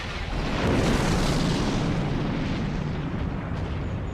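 A tank gun fires a kinetic-energy dart round that slams into enemy armor, heard as one loud, sustained, rumbling blast that rolls on without a break across the whole stretch and fades only slightly toward the end.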